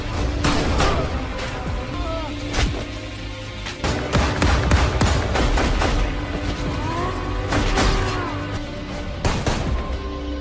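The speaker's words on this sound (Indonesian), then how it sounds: "Jack kemudian kembali menyusuri tempat itu dan baku tembak pun kembali terjadi" A gunfight from the film Outlawed: dense bursts of gunshots and booming impacts crackle throughout, sharp reports stacking over a rumbling, chaotic background.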